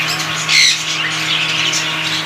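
Birds squawk at a bird market in Faisalabad where small pigeons and parrots are kept. Harsh, shrill calls overlap, with one louder squawk near the middle, over a steady low hum and busy background and no talk.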